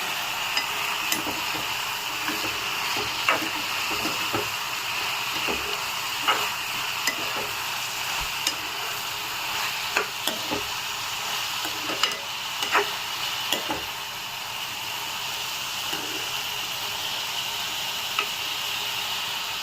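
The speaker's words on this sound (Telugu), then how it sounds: "ఆలు వేసుకుందాము. ఒకసారి మొత్తం మిక్స్ చేసుకుందాం." Potatoes are stirred into a frying carrot and capsicum masala curry, with a soft, constant sizzle and a spatula clicking and scraping the pan at irregular intervals. No one speaks.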